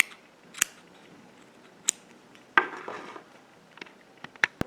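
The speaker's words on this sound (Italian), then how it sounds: "poi andiamo a tagliare un po' a misura come vogliamo l'altezza" Scissors snip yarn while trimming the hair of a crochet amigurumi figure, several crisp, close cuts spaced irregularly over a quiet background.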